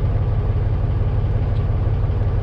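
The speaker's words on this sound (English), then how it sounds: "to run your PTO compressor, all you gotta do, idle up the truck, and boom" A truck engine idles up to drive a PTO compressor while unloading a rubber-lined tanker, giving a loud, steady low diesel rumble with a regular throbbing pulse and no speech.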